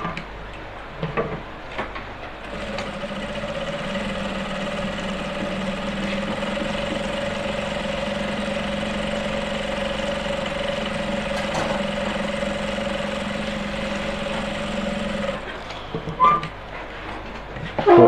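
A sewing machine top-stitches a flap on a senator top, running as a steady, even motor hum for about twelve seconds before stopping, with a few faint handling noises at either end.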